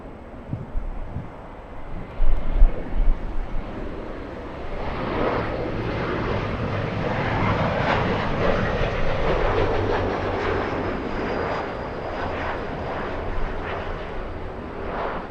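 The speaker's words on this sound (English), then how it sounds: "QF15 flying in from Brisbane, Australia. This is a 12-hour flight to LA." Qantas QF15, an airliner arriving at Los Angeles LAX from Brisbane in gusty winds, builds from a few thumps into a sustained roar. The sound swells mid-clip and then settles into steady engine noise.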